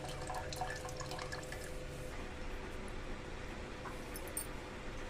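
Tamarind water being poured and strained in a kitchen while making tomato rasam, a soft, steady trickle and dripping of liquid that stays faint and continuous, with no talking.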